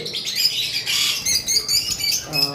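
Normal green lovebirds, the sea green and other colour mutations kept for sale, chirp in a dense, continuous flock chatter of rapid high tweets and calls, close and fairly loud.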